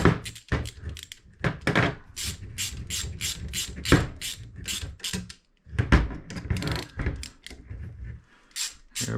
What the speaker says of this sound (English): And let's tighten these down.